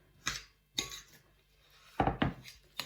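Oat biscuit mixture being stirred with a splash of apple juice in a bowl, giving a few separate scraping and clinking strokes of a utensil against the bowl, close and fairly quiet, with no talking.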